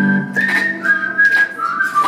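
Audience members at a live pop concert whistle loudly and repeatedly, several sustained and sliding whistles overlapping for a couple of seconds with no voices.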